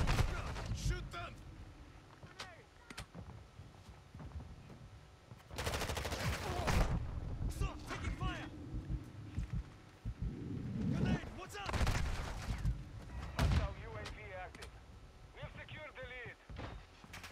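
Game gunfire from Call of Duty: Modern Warfare 2: repeated loud bursts of shots and automatic fire with heavy booms, mixed with voices calling out in a chaotic firefight.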